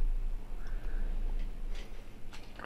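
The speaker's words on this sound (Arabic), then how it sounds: "هاي الموتور وهي تكة الريلي،" A relay on an automatic washing machine control board ticks in a few light, scattered clicks over a continuous low motor hum, close and fairly quiet.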